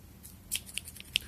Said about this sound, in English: Let me grab Mr. Scissors.